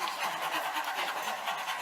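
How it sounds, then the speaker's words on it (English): A group of people at a vocal workshop pant with their tongues out, producing a continuous, dense wash of fast breathy huffs that blend into a steady hiss, fairly loud and close, with no talking. "A good way to teach your body how to pant is just to pant."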